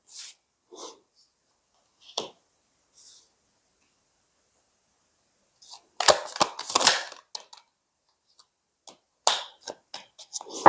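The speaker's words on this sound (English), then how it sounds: "I feel like the card shuffling is a lot louder than I am." A tarot card deck is shuffled up close, with scattered soft riffles and taps early on, then dense bursts of quick papery card flicks midway and near the end, separated by quiet gaps.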